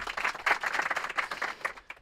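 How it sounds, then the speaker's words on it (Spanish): A studio audience applauds guest Adriana Torrebejano on a time-travel comedy show, a brief burst of dense clapping that is moderately loud and then tails off. "Un fuerte aplauso, por favor, para Adriana Torrevejano"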